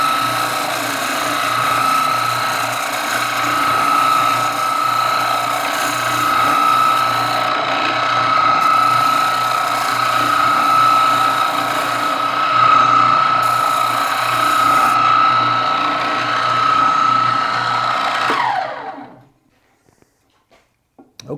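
A Harbor Freight oscillating spindle sander works a curved piece of scrap wood, a steady loud motor whine with grinding abrasion running continuously for about nineteen seconds, then cutting off and winding down into silence with no one talking.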